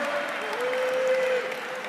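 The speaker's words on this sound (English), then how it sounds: "Can we give another round of applause for all those that helped make tonight happen?" Applause at a liver foundation legacy gala, a steady, even wash of many people clapping with a faint tonal hum running through the middle, consistent from start to finish.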